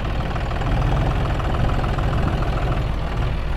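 A tractor engine idles steadily and loudly at close range, a continuous low rumble with a fast even pulse and no break over the few seconds, during washing with a JCB in a village.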